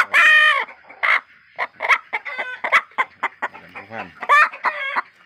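Laying hens cluck in quick, choppy bursts, with a louder squawk at the start and near the end, close by.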